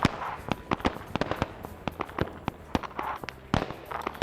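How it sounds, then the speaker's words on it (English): Gunfire exchanged in a Vietnam war video game: rapid, irregular cracks of shots in close succession, sharp and fairly loud, continuing throughout without speech. "Looks like we have some rear fire being exchanged here from that one patrol."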